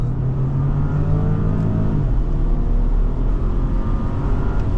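A 2019 Porsche Cayenne AWD accelerating hard, heard from inside the cabin: the engine drone climbs and strengthens, shifts partway through, then pulls on as a loud, steady roar without speech.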